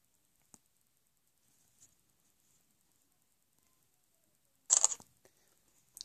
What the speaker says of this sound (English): you will end up with the same clicking noise.